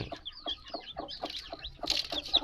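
A native Thai hen clucks in quick, repeated bursts close by, the calls rising into a louder, more excited flurry near the end.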